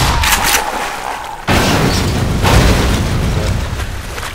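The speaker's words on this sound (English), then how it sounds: "that barrel was supposed to probably explode" A barrel explodes in Black Mesa: a sudden loud boom midway cuts in over an already noisy scene and is followed by a sustained rumbling roar.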